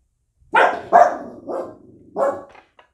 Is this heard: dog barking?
yes